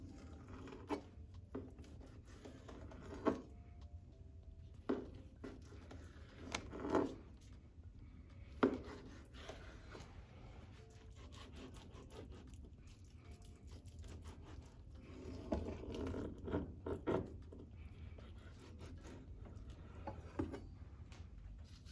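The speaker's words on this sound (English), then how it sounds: "I'm going to just dice the pieces up as close to being equal as possible" Knife dicing a salmon fillet into even pieces on a cutting board, a quiet series of soft irregular taps and thuds spread through the clip, close by with no talking.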